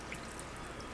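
Liquid being poured steadily into a pot of soup in a home kitchen, a continuous close trickle and splash that holds at the same level throughout the brief moment.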